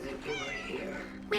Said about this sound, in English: Ooh, a cat!